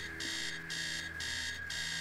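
A repeating electronic alarm clock rings in the game Stories Untold, loud bursts of bright tone pulsing about every half second with a steady hum underneath, no voices.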